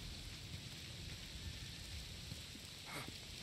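Rain falls steadily as a dense hiss in the video game Days Gone, with a faint low rumble of thunder under it and no voices.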